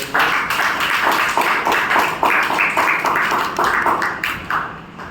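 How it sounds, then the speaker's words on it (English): An audience at a Toastmasters club meeting claps steadily in a dense, rhythmic round of applause, close and fairly loud, trailing off at the end. "with big round of applause, please welcome Toastmaster Dheeraj"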